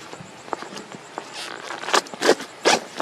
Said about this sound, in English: now we'll go around and undo the zipper